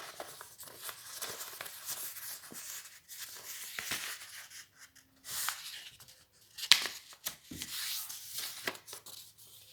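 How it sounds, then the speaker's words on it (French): Origami paper being folded and creased into a jumping frog, with close, soft rustling, sliding and crisp creasing sounds coming in irregular bursts, no talking. "Nous allons faire une croix de ce côté en pliant d'abord l'angle de ce côté et en le ramenant en bas."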